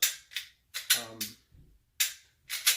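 A Glock 34 Gen 5 pistol with reduced power springs and a factory connector is dry-fired in practice, giving a series of sharp metallic clicks and clacks in an uneven rhythm, close and crisp with no voice over them.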